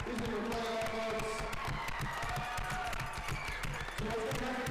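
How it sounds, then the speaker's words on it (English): An audience applauds the tournament finalists at a league tournament, steady clapping mixed with crowd noise and some cheering, moderately loud and continuous throughout, with talk mixed in. "let's give everybody a round of applause"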